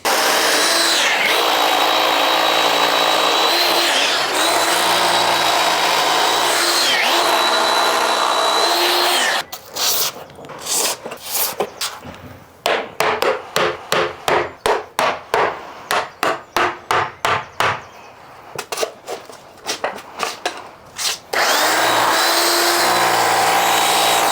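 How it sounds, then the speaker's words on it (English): A power drill with an 8mm bit drilling holes for insulation plugs in external wall insulation: a long, loud, steady whine, then a run of rapid short bursts, then steady drilling again, all close up. "I'm using an 8mm bit for these plugs."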